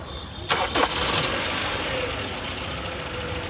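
A car engine cranks briefly, catches and fires up, then settles into a steady, loud, close idle with no voices.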